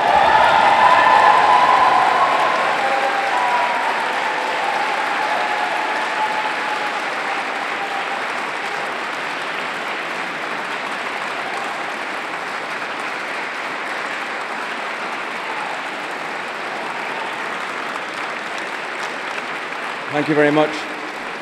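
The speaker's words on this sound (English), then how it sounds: "make a huge noise and a round of applause for these good people out here" Sustained applause from a large audience at a university award ceremony in an old building, loud at first and then a steady wash of clapping, with a brief burst near the end and a voice speaking over it.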